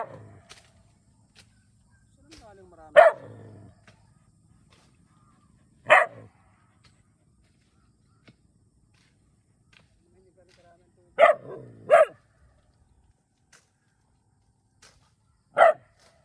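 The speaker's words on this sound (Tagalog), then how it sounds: "Merong aso na maingay." A dog on a rural farm barks in single sharp yaps spaced several seconds apart, fairly close, with quiet talk faintly in between.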